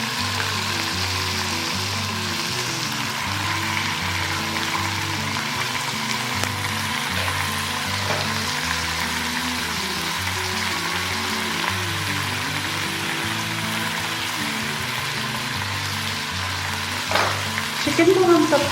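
Cubes of chicken fry in a pan after aromatics are sautéed, giving a steady, close sizzle throughout with occasional stirring and a slight rise in noise near the end.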